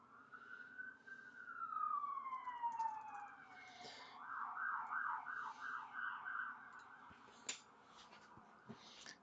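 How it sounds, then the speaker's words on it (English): Several emergency vehicle sirens pass nearby, a long rising and falling wail followed by a rapid yelping pattern, loud over background street noise with a couple of sharp knocks near the end. "Loads of sirens all of a sudden."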